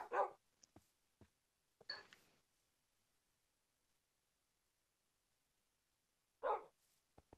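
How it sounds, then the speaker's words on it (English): Dogs in the Minecraft video game give a few sharp, separate barks, with a quiet gap between the early barks and a last one near the end, no talking. "You shouldn't have left me with these dogs either."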